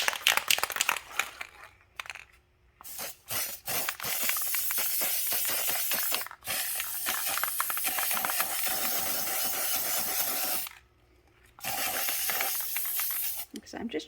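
A nearly empty can of Rust-Oleum spray paint in Sea Mist hisses in long, steady bursts with brief pauses between them. The spraying is close and fairly loud in a home garage.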